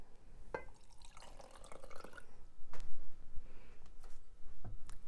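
Distilled water is poured into a homemade body wash mixture, giving a short trickling splash followed by scattered drips and small clinks at close range, with no talk.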